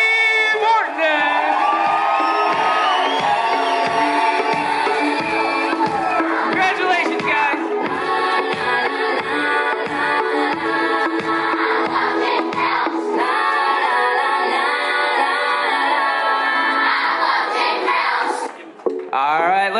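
Wedding guests cheer and whoop for the bridal party over loud, thumping dance music with a steady beat, the crowd noise blending into the music at a reception.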